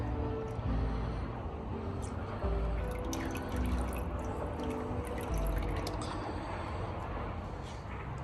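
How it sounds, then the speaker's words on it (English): Feynlab rinseless wash pours into a plastic wash bucket, a steady dribbling and splashing of liquid that runs continuously, close by and moderately loud, with no talking over it. "We're going to dump it into our wash bucket here."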